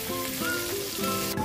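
A pot of munggo (mung bean) soup with tomato at a rolling boil, giving a close, steady bubbling and sizzling hiss without speech.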